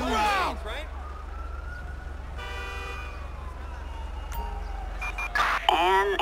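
Emergency sirens wail in Grand Theft Auto 5 with the LSPDFR police mod during a code 3 response in the city. Rising and falling siren sweeps are joined by steady horn-like tones, loud and close over a low engine rumble.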